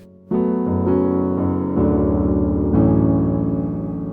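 Piano chords played close and clear for a beginner tune, five struck in an unhurried sequence, each ringing on and overlapping into the next, with no talking.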